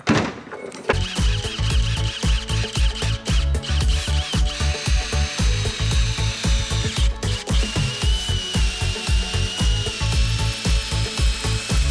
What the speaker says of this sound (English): We're gonna drill a hole.